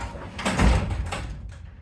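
A heavy insulated double garage door rolls toward closing, giving a short rumbling, rattling mechanical noise that swells and fades over about two seconds, close by.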